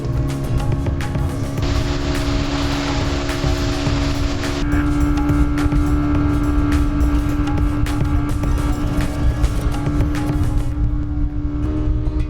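Speed boat running on a lake ringed by hills at Chandil, a loud continuous engine drone with rushing water noise, steady and close throughout.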